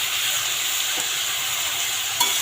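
Mixed vegetables with salt and turmeric are stirred in a pot for a dalia khichuri, making a constant bright hiss of cooking with a couple of faint clicks from the spoon.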